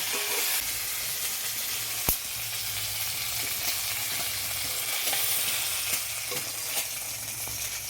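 Chilli and cumin paste with turmeric fries in oil in a wok, a dense continuous sizzle heard up close, broken by a sharp clink and a few soft stirring knocks.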